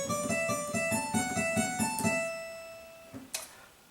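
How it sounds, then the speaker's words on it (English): A Baroque-style keyboard melody in straight eighth notes with passing tones runs for about two seconds of clear evenly spaced notes, then stops and leaves faint room noise with a couple of soft knocks. "we are going to play straight eighth notes with passing tones in between each note"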